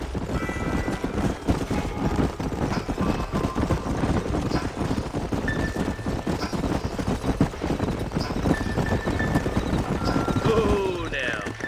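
Horses gallop across open country in the Western video game Red Dead Redemption, a dense rapid clip-clop of hooves with an occasional whinny, continuous and close, while voices talk over it.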